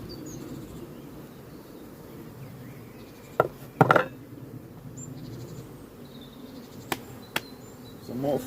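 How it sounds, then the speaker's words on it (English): Honey bees hum steadily around frames in a small three-frame starter box, a low continuous buzz broken by a few sharp wooden knocks and clicks partway through. "Some more frames of bees."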